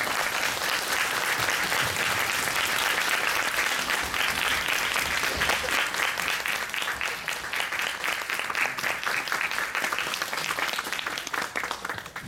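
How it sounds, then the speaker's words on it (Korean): A theatre audience at a post-show talk applauds steadily in a dense, even patter of many hands that fades a little toward the end. "큰 박수 부탁드리겠습니다."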